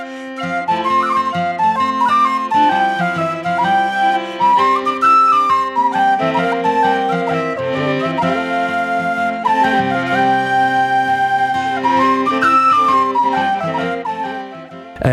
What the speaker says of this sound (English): It kicks off with whistles in a really old school vein